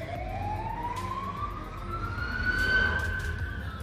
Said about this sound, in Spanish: Esa sirena debe ser por coronavirus.